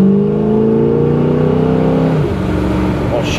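A 1969 Camaro Yenko recreation with a big-block engine pulls away in morning traffic in Norwood, its loud, near engine note rising steadily and then dropping as it shifts, with no talk over it.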